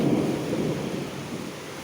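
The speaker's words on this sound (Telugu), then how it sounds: "ఉరుములు చూడండి చూడండి కిటికీ కిటికీల నుంచి గాలి వాన" Thunderstorm at a Bangalore house: a loud, close wash of rain and wind with low thunder rumble, steady and unbroken for the short stretch, no talking.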